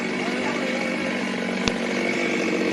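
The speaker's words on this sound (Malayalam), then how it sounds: "നമുക്ക് മരങ്ങൾ വെട്ടിമാറ്റുന്ന ഈ ദൃശ്യങ്ങളൊന്ന് കാണാം" A chainsaw runs steadily while a tree is cut down and sectioned, a loud continuous buzzing drone held close throughout, with a single sharp crack partway through.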